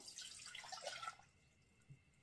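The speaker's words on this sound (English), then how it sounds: "It is just 1 cup of water" One cup of water is poured into a saucepan for pickling brine, a short, soft splash and trickle that fades quickly into near silence.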